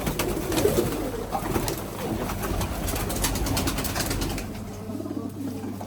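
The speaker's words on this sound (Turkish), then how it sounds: "Bugün kuş çok." Pigeons at a busy bird market coo and murmur in a dense, continuous chorus with occasional wing flaps, close and steady throughout.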